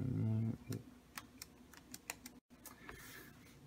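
Quick, light clicks of keys being typed on a Lenovo ThinkPad Yoga 14 laptop keyboard, a short burst of irregular taps close by, with a brief low voice sound at the start.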